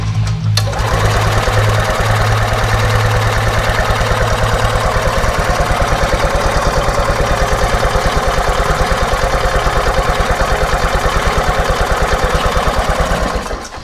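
An EZGO golf cart's small engine runs steadily for the whole stretch, a loud, close, rapid chugging with a fast regular firing beat and no talk over it.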